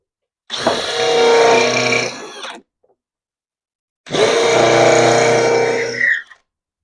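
A power drill bores into pear wood in a workshop, two sustained whining, grinding runs of about two seconds each with a pause between, loud and close.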